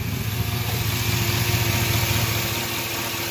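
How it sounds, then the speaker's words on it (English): A GM truck engine with an LS V8, 4.8 or 5.3, runs at a steady idle with a dense, even low rumble and hiss, close and continuous, with no voices. "And the junkyard ECU will now start the vehicle."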